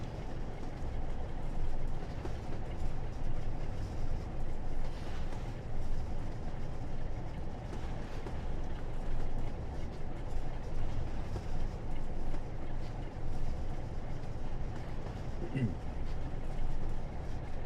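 A simulated diesel train on the West Somerset Railway in Train Sim World 4 rumbles steadily throughout, a low continuous rolling drone with someone talking over it.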